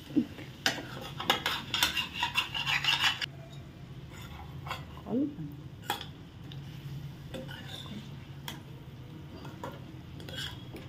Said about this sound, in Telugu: కలుపుతూ ఉండాలి. అలాగా బాగా టమాటీ ఆలుగడ్డ కలిసిన తర్వాత